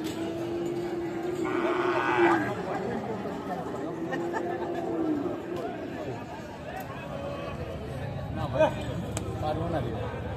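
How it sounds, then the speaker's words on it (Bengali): A Sahiwal bull moos at a busy cattle market in Cumilla, one long low call near the start, heard amid steady crowd chatter and people talking nearby. "আমরা একটু গরুটা দেখাই আগে। এই দেখছেন গরুটা"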